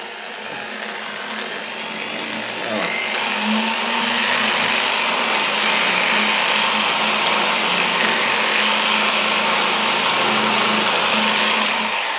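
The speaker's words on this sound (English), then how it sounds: "this drill bit is quite dull" Power drill boring out an old ABUS five-pin euro lock cylinder with a dull bit, a steady loud whirring grind that builds after a few seconds and runs continuously to the end, with no voices.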